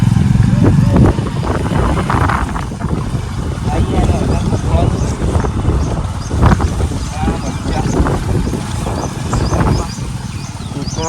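A motorcycle carrying two riders along a canal road, its steady engine rumble and wind noise filling the whole stretch while people talk loudly over it.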